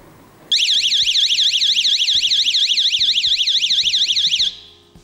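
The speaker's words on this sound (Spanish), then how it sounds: "Otra pulsación detiene la alarma" A loud electronic alarm siren from a WiFi door and window sensor (MC400S), wailing in a rapid up-and-down sweep for about four seconds, then cutting off abruptly.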